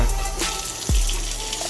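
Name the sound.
hot water being poured into a cooking pot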